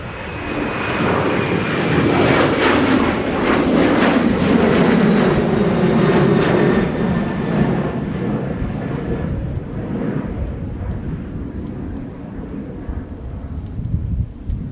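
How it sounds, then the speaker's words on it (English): A Sun Country jet airliner departing runway 30 left at Minneapolis–St. Paul Airport produces a loud, steady engine roar, strongest early and then slowly easing as it climbs away, with a faint whine running through it. "How about another Tide Pod departure? Off of runway 30 left, this is Sun Country Flight 1953 to Colorado Springs."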